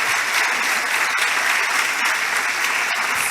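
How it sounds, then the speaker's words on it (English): Dense, even applause from a conference audience, continuous clapping with no talk over it. "I think just a round of applause for Nicki"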